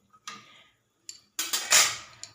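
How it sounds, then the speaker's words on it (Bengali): A metal plate is set over a kadai of simmering fish curry with potol and aloo. A few sharp clinks and a short clattering scrape come close up, with quiet gaps between them. "কড়াই থালা ঢাকা দিয়ে"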